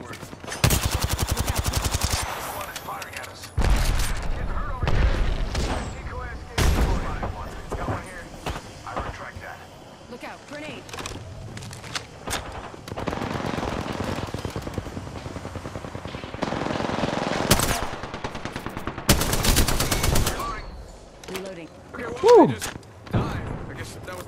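Apex Legends gunfire cracks out in repeated automatic bursts with short pauses between them, alongside game sound effects and voice callouts.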